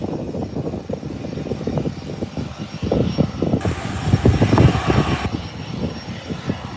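A Caicos Express propeller airliner taxis after landing, its engine drone steady and fairly loud throughout, swelling slightly as it rolls past at moderate distance.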